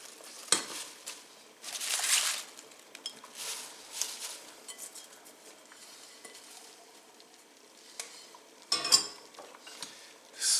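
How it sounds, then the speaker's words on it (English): Spinach is stirred into a pot of vegetable soup: soft simmering hiss under intermittent clinks and scrapes of a spoon against the pot, with a few sharper knocks, heard close up with no speech. "Stir that in."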